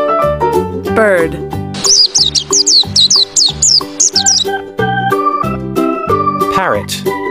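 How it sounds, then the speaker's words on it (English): A cartoon-like bird chirps a quick series of bright, high tweets partway through, set within an upbeat children's animal-vocabulary song with steady music throughout. "Bird."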